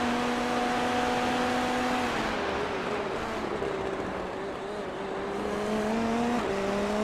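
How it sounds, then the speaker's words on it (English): Onboard engine of the number 2 Indy NXT race car in the iRacing video game: a steady, loud engine whine that rises and falls in pitch through gear changes, with road rumble underneath. "As we continue to look on board with Robert Ridgeway in that number 2 car"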